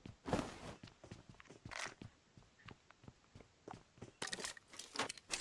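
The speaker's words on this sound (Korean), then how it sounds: "발소리가 나는데." Footsteps in the mobile battle royale game PUBG Mobile come as a series of crisp, irregular steps, some louder and closer, others softer, mixed with brief scuffs and rustles, with no talk during them.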